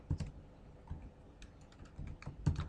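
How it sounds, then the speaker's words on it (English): Keys tapped on a computer keyboard while entering a title in Photoshop or InDesign, a quiet, uneven series of soft clicks with a few louder strikes and short pauses between them. "I'm going to type Ladakh there"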